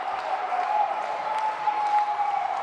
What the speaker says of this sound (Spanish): el público ovaciona, el público incluso utiliza los pies para crear mayor ovación